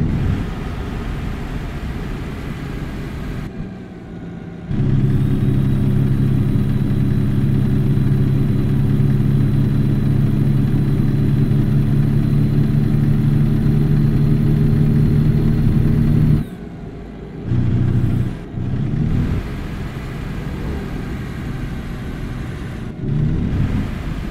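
An International LoneStar truck engine hauling grain in American Truck Simulator drones steadily with a low, loud rumble for a long stretch, briefly dropping out and resuming near the end.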